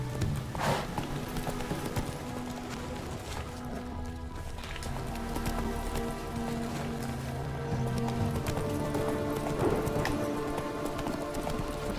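Horse hooves galloping in The Witcher 3, a continuous rhythmic clip-clop that runs the whole time under game music, with a faint whinny and scattered in-game sounds.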